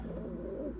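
Pair of West of England pigeons giving low, continuous cooing close by, a warm steady murmur filling the short moment with no talk.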